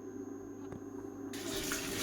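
Hot water poured into a large village cooking pot of vegetable curry for a feast of 80 people, a sudden rushing splash that starts partway through over a faint low hum.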